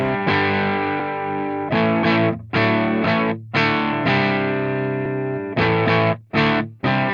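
Heavily distorted electric guitar through Tonex amp modeler software plays sustained power chords and short stabs, saturated and buzzing, with brief pauses between phrases.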